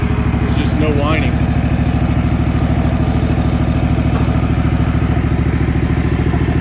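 A new hydrostatic mower's engine idles steadily up close, a loud continuous pulsing drone with no audible whine, while someone talks over it.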